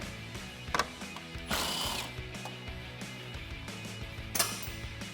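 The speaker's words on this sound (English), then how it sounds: "For the grill, I'm switching over to an extension on my 10mm." A ratchet turns a 10mm socket on an extension to undo the grille bolts of a 2014–2015 Chevrolet Silverado 1500, giving quiet clicking bursts interspersed with a few sharper metallic clanks, close and intermittent.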